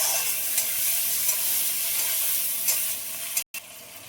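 Chopped tomato with salt and turmeric stirred in a hot pan for an egg poach curry, giving a steady close sizzle with soft scraping strokes, a brief dropout near the end, and no talking.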